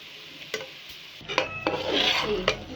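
A cauliflower and potato curry with cumin is stirred in a pot, producing a few distinct scraping strokes and soft clinks over a low background sizzle, close and short, with no voices.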